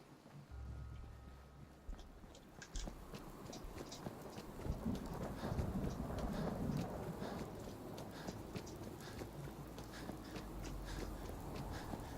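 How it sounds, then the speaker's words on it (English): Steady patter of rain with scattered drips and ticks, a constant soft hiss throughout; a low rumble surfaces near the start and again at the end. "Rain. It was threatening to rain here earlier."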